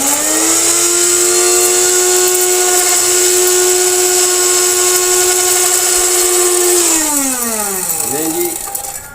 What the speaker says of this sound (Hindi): अब मैं इसको ग्राइंडर को चलाऊंगा तो ये पाउडर बन जाएगा।